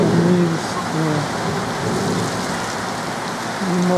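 Heavy rain pours down steadily over Minsk, a dense even hiss of drops on surfaces with low rumbling and faint passing traffic beneath, loud and continuous throughout.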